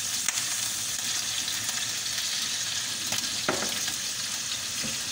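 Ground pork fries in oil in a pan, giving a constant close hiss and crackle with occasional faint scrapes, no voices.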